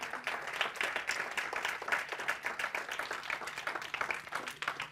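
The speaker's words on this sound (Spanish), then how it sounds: "Denle un aplauso al Señor entonces" A church congregation claps together during a sermon, a soft, steady patter of many hands heard from some distance with no talking.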